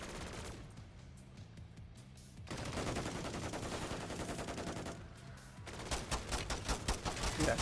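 A sentry gun in MW3 Zombies fires rapid automatic bursts, one long sustained volley, a brief pause, then another dense, loud burst of gunfire over low game ambience.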